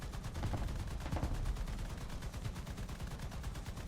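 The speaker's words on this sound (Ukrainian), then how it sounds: "А що месер робить? Чого він просто стріляє в нікуди?" Machine guns of a Messerschmitt fighter fire in War Thunder, a dense, continuous rattle of rapid bursts with heavy low-end thumps, loud and steady throughout with no talk.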